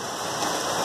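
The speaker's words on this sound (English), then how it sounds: "because this rain, for example, is keeping me from gardening" Rain falling outside, a steady dense hiss of drops with no breaks, heard alone for under a second.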